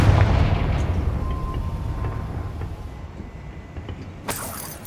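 A Confringo blasting spell from Hogwarts Legacy explodes in a dense, rumbling burst that fades into a lingering low roar, with a sharp crackling flare near the end.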